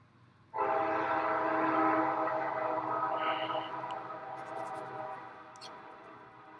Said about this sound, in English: train is blowing the horn like crazy